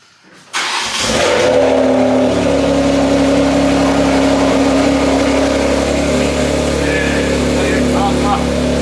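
A tuned BMW X3 M starts up with a sharp burst, then its engine holds a loud, steady rev with a droning note close by, while someone talks over it.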